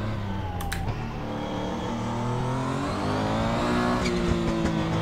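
A race car in a sim racing video game revs through rising and falling engine tones with brief tire squeals, heard clearly and alone.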